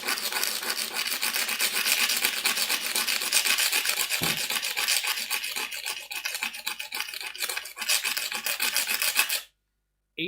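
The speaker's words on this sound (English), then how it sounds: "Grit sandpaper." Grit sandpaper rubbed on a 3D printer panel in steady rapid back-and-forth rasping strokes, close and continuous, ending abruptly in near silence.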